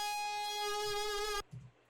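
A bright, plucked-sounding synth lead harp with no effects sustains a single harmonic-rich note, dry and clean, then cuts off abruptly into near silence.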